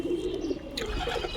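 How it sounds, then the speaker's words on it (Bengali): A pigeon coos softly and steadily at close range, a low rounded murmur that carries on for about a second beside another bird chirping faintly. "আরে সেই পায়রা, একদম সেই পায়রা"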